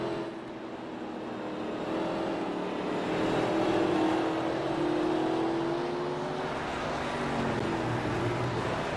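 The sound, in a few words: race car engines hitting the rev limiter at Martinsville, video game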